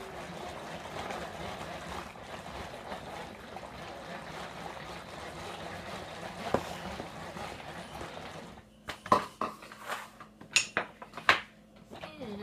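Meat being stirred in a stack cooker: a soft simmering, bubbling bed gives way to several sharp scrapes and clanks of a utensil against the metal pot, close and intermittent, with no talking.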